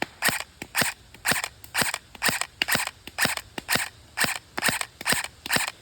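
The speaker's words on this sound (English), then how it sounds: "let's start off with a couple of semi-auto shots into the green net" Novritsch SSE-18 airsoft rifle fired on semi-auto into a green net at close range: a rapid, even string of about fourteen sharp cracks, each followed by a snappy net impact, with no talking.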